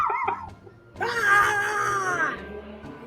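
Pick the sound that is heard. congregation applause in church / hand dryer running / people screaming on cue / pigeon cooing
people screaming on cue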